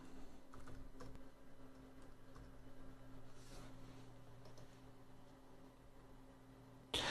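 Soft, rapid tapping of login details on a computer keyboard, faint and close over a steady low electrical hum, with no voices.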